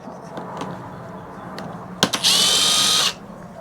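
A couple of sharp clicks, then a power drill whirs steadily at high speed for about a second, drilling out long screws while scrapping all-in-one PCs and Macs, before stopping abruptly.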